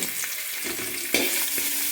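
Whole spices with crushed ginger, garlic and green chilli fry in hot oil for an egg biryani, giving a steady close sizzle with a few soft stirring scrapes and a brief louder burst partway through.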